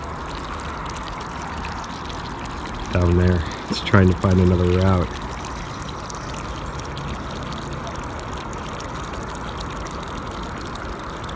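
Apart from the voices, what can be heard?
water from a hose flowing through a stream table model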